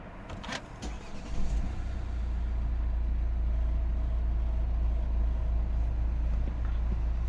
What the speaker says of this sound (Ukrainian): достатньо просто нажати кнопочку і машина заведеться